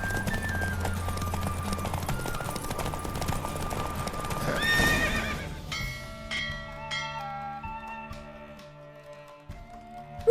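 A racehorse gallops in a race in The Witcher 3 video game, rapid clip-clop hoofbeats with a whinny, backed by music and bell-like chimes that ring out as the gallop fades.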